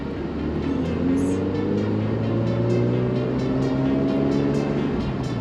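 A right-hand-drive TVR car's engine revs to a steady, loud drone whose pitch climbs gradually as the clutch is let out and the car pulls away; no voices are heard.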